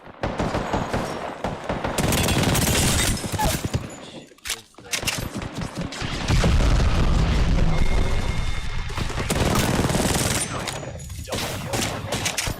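Rapid bursts of automatic gunfire and booming blasts in a video game shooter, loud and dense with a short pause midway, under occasional squad chatter.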